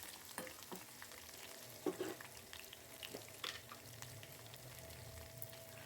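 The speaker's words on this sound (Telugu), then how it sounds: "5 ఎండుమిర్చి వేసుకొని ఒకసారి కలుపుకొని లైట్ బ్రౌన్ కలర్ వచ్చేంత వరకు ఫ్రై చేసుకోవాలి." Crushed garlic and dried red chillies fry in oil in a pan for a mango pachadi, giving a steady low sizzle with a few brief stirring knocks, with no one speaking.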